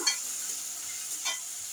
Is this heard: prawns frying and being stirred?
yes